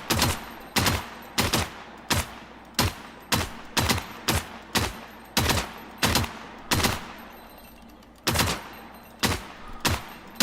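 Gunfire in a video game: over twenty sharp single shots in an uneven rhythm, sometimes in quick pairs, loud and close, each with a brief echoing tail and no talking.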